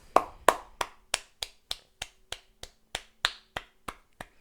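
Fourteen sharp hand claps ring out in a steady, slightly quickening rhythm, each a crisp close smack with a short decay, alone without any talk.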